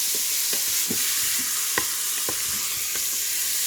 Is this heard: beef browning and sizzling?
yes